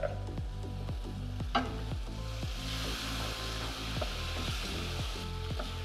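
Chopped tomatoes from a tin sizzle in a pan with fried spices, making a loud continuous crackle, with a few scraping stirs against the pan.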